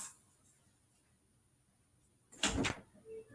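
A door knob is tried on a stuck, unlocked door: after a long quiet stretch, a brief close burst of rattling and clunking lasts about half a second, then a faint softer knock follows.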